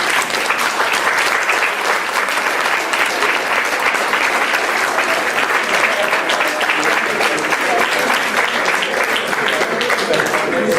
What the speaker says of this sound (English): another big round of applause for our friend Valery